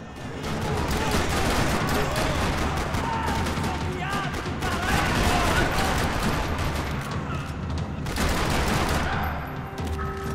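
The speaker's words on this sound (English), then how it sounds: "Another parking lot rattling with gunfire." Dense, rapid gunfire in the video game Max Payne 3 rattles continuously for several seconds in a parking lot, loud and close, with bursts overlapping and a few faint voices mixed underneath.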